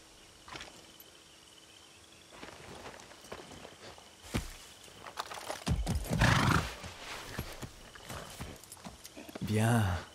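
A horse's hooves clip-clop along at a walking pace in the video game Far Cry 6, followed by a loud whinny near the end, with scattered soft footsteps and faint insect chirps in the background.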